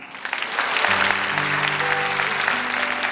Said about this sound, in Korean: 우리 모두에게 큰 박수로 한 번 더 격려해 주시면 감사하겠습니다